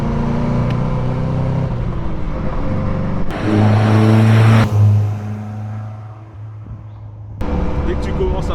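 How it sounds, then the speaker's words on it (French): Caterham Super Seven engine revving and accelerating, loud and close, with rising engine tones and a brief quieter stretch before the revs pick up again; people talk over the engine noise. "le son du moteur, il est génial"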